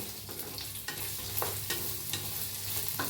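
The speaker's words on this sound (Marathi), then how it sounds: "थोडं कांदा भाजून घेऊया, मिरची टाकलाय, हलवून भाजून घेऊया" Onion and green chili frying in oil in an iron pan while being stirred, a steady sizzle broken by periodic scraping strokes of a spoon against the metal.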